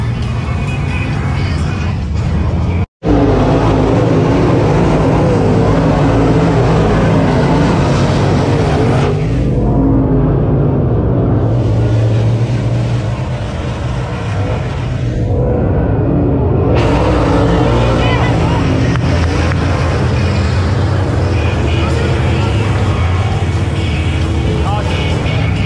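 Dirt track late model race cars roar around a Tennessee track in a C race, a loud continuous engine drone that swells and fades as the pack passes, heard from the stands with crowd noise mixed in.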